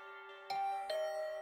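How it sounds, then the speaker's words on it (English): A doorbell rings in the video game The Hundred Line, two bright chimes about half a second apart, each leaving a sustained tonal ring over a soft steady musical background. "the doorbell still works."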